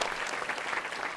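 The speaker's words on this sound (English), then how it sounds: "I hope that you all can give them a round of applause and say thank you as well." A brief burst of audience applause for sponsors at a multiple sclerosis symposium, dense and even clapping from a crowd at moderate loudness.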